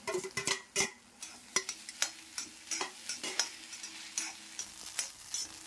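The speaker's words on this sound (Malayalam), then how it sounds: "ഞാനൊരു 5 മിനിറ്റായി ഇപ്പോൾ ഇത് ഇളക്കുന്നു." Scrambled egg mixed with cooked, crumbled soya being stirred in a pan: a spatula taps and scrapes the pan in quick, irregular strokes over a soft, steady sizzle, close and alone.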